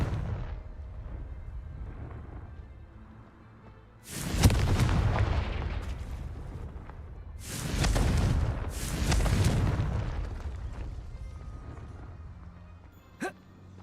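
Fiery Confringo spell blasts in the game Hogwarts Legacy: three loud booming explosions with rumbling tails at about four, seven and nine seconds over low ambient background, followed by a brief sharp pop near the end.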